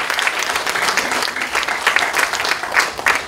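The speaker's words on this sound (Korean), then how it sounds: "네, 큰 박수로 축하해 주십시오." Dense, steady applause from an audience at a poetry book launch celebration during a commemorative plaque presentation, with many hands clapping continuously at close range for the whole stretch.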